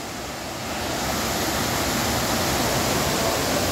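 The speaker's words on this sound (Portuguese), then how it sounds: "Aí não, a cascata." A waterfall in Brazil pours as a steady, dense broadband roar, close and continuous, swelling slightly louder after the first second and holding without pause.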